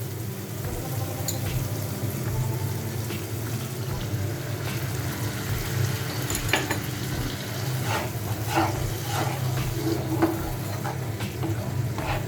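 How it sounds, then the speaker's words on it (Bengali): Water poured into fish kofta curry simmering in a hot pan, with a steady sizzle and bubbling and occasional stirring and utensil clinks against the pan, close and continuous. "এখন এতে আমি পরিমাণ মতো জল অ্যাড করে দেব।"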